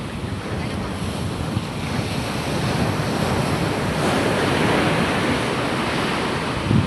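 Large sea waves crash and surge around a small boat crossing rough open water, a continuous roaring wash of surf mixed with heavy wind buffeting the microphone, swelling louder midway.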